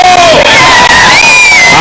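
Loud, close crowd cheering at the swearing-in ceremony of Kithure Kindiki as Kenya's Deputy President, a dense continuous roar of voices with rising shouts and whistles throughout.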